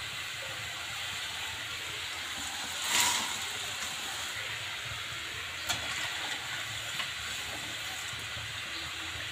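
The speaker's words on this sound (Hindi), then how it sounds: "हमने थोड़े मकर पोहे पहले तल लिए" Corn poha fries in hot oil, giving a continuous, even sizzling hiss at moderate volume with a couple of brief louder crackles.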